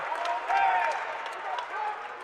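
A high school tournament basketball crowd for the Maysville Panthers roars and cheers after a travel call in the backcourt, a steady noisy swell of voices and claps with a commentator talking over it.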